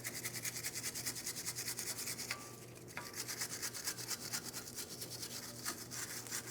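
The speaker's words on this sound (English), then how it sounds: "I'm using my wire brush, once again being careful for our ABS wheel speed sensor" A wire brush scrubs rapidly back and forth inside the wheel hub of a 2015-2025 Ford Transit 250 during a front brake job, with a fast, rhythmic rasping close by and one brief pause midway.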